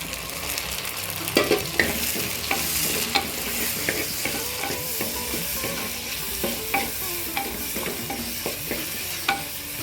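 Onion and tomato with curry leaves sauté in a pan for Chettinad ghee fish curry, giving a steady sizzle broken by frequent clinks and scrapes of a stirring spoon, close up and without talk.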